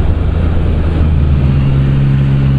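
A 2024 Yamaha MT-09 SP motorcycle fitted with an Akrapovic exhaust, its engine running loud and close in a steady, deep, rumbling drone with a slight revving lift and no voices.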